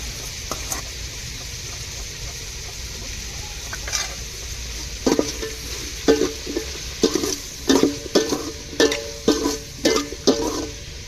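Sautéed okra sizzles steadily in tamarind gravy, and a spoon stirs it in a run of sharp, rhythmic scrapes and clacks that grow louder toward the end.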